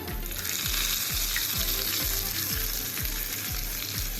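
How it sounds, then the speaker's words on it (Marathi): Hot spice tempering with Kashmiri red chilli powder, poured onto dal for a dhaba-style Schezwan dal tadka, sizzles and fries loudly and steadily throughout, with a regular low rhythmic thump underneath and no talking. "आता हा तडका आपण डाळीवरती घेऊया"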